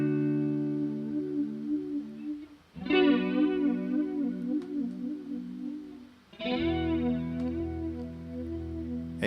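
Guitar chords ringing through a chorus pedal with an even dry/wet mix, two long sustained strums with a wavering, shimmering swirl, close and alone.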